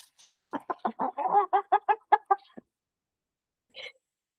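Pet chicken clucking up close, a quick run of about a dozen sharp rhythmic clucks followed by a pause and one last short cluck.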